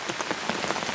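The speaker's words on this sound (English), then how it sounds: "watching the rain, listening to the rain" Heavy rain drums steadily on a tent during truck camping, a dense, close patter with no voices.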